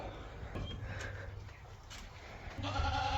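Goats bleat in short, wavering cries over a steady outdoor background hum, one louder call near the end.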